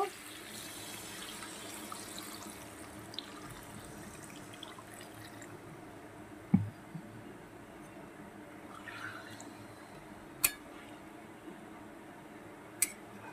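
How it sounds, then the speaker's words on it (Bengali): Water pours into a pan of egg and potato curry, a steady close splashing and trickling stream with a few sharp clinks, no talk over it. "এই পর্যায়ে আমি পরিমাণ মতন জল দিয়ে দেব"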